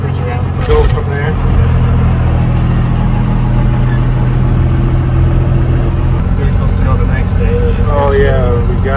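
A first-generation Cummins diesel truck engine fitted with an 80mm turbo drones loud and steady from inside the cab while people talk over it.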